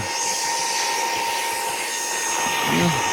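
A Saker 3 in 1 vacuum cleaner runs with a steady high whine and a constant airy roar, close and loud, while someone talks over it.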